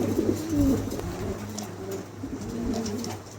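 Several pigeons coo softly and repeatedly nearby, low throaty murmurs overlapping against a faint background hum.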